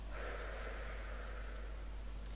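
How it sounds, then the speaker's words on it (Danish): Heavy, rapid panting from a person out of breath after sprinting during a game, breaths close and continuous throughout with a hoarse, rushing quality and no talk. "Undskyld, jeg kommer til at puste."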